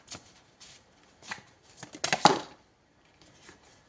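Tarot cards shuffled by hand, a run of short papery riffles and flicks with one louder, denser burst in the middle, close and fairly quiet with no talk.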